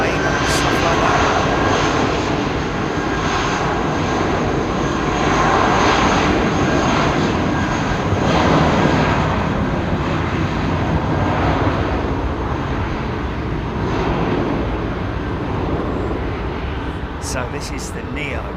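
Airbus A320neo jet engines run at Heathrow in a loud, continuous roar that rises and falls gently, while someone talks over it throughout.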